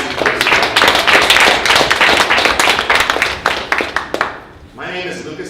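An audience at a small community business event claps together, a dense burst of hand clapping that thins into scattered claps and fades, with a voice starting to speak at the end.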